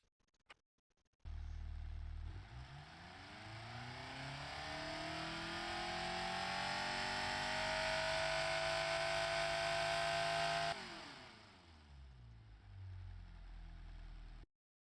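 A turbocharged Kia Forte GT engine in the Automation game, starting up and revving steadily higher for several seconds, then dropping back to a lower revving drone before cutting off, close and loud, with no talk.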